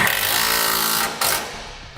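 A power tool runs hard as it snugs down a bolt on a parking brake cable bracket under a 2006 Dodge Ram pickup, a loud continuous whir with a brief pause before spinning up again.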